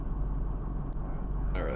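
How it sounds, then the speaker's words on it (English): A bus noise sound effect plays at the press of a button: a steady, loud low engine rumble that carries straight through, with a brief brighter whine rising near the end. "A quick button press to get bus noises."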